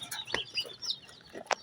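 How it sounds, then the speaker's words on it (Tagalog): Domestic duck calling close by in a short burst of nasal quacks and clucks, a couple of sharper calls standing out, with light outdoor background noise. "Itik."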